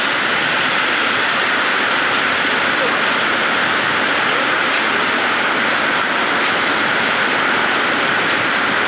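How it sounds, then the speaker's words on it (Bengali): Heavy late-afternoon rain falling steadily under storm clouds, a dense even hiss that holds at the same loudness throughout with no break. "প্রচুর বৃষ্টি হচ্ছে"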